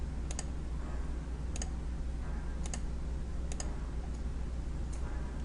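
Computer mouse clicks while drafting in CAD software: five sharp, isolated clicks spaced about a second apart over a steady low background hum, with no talking.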